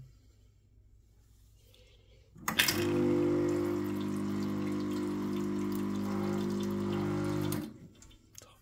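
Timemore Chestnut S3 espresso setup running an extraction, a steady pump hum with liquid flow starting abruptly and holding for about five seconds before cutting off, close and alone without talk.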